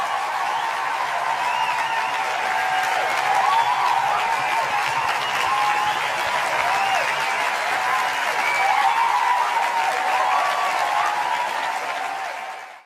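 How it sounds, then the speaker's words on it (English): Applause from a crowd in the Minecraft video game, a dense sustained clapping that holds steady for several seconds before cutting off abruptly at the end. "I would like for all of you to give a round of applause for all of them."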